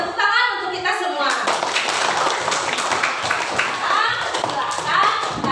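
Students in a classroom clap together, a busy patter of hand claps and taps mixed with children's voices and chatter throughout, close and fairly loud.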